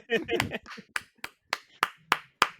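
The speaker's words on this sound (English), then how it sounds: "a levels friendly golf clap" A handful of quiet, spaced single claps ring out one at a time in a soft golf clap, following a short burst of talking.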